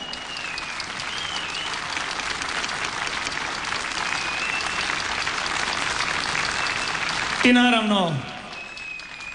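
A concert audience applauds steadily for a legendary primaš, a dense, even wash of clapping that swells slightly before fading, with a voice rising briefly over it near the end.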